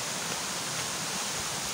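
The Cunang waterfall in Indonesia, seen near a hikers' base camp, gives a steady, dense roar of falling water that stays even and unbroken throughout.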